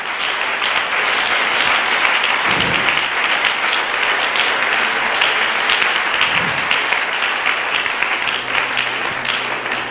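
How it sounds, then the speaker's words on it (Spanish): A church congregation at a Spanish-language evening service bursts into loud, continuous applause, a thick wash of clapping that holds steady for about ten seconds with no talking. "Dele un aplauso al Señor en esta noche."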